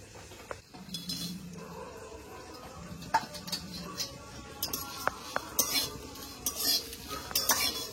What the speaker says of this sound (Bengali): তো এগুলো আমি ভেজে নেব শুকনো খোলায়।